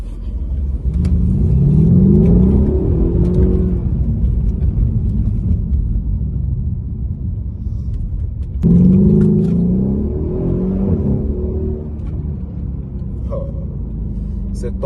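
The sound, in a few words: Mercedes CLS 63 AMG accelerating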